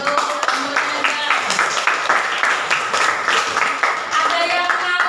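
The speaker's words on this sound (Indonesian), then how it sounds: "Oke, tepuk tangan untuk teman-teman." Ninth-grade math classroom breaking into brief applause, a loose patter of hand claps from a group of students in a small room, with some voices mixed in.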